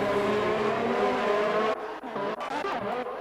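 Racing cars in a video game, a Renault overtaking, with a steady loud engine whine that drops off sharply into choppier, fluttering revs as the cars pass.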